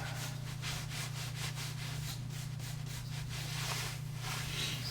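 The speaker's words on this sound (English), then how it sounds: "Let me do a quick wipe." A Benchmade 940-1 knife blade with a thin carbon fiber and S90V build is wiped, giving a steady close rubbing swish in quick repeated strokes over a low constant hum.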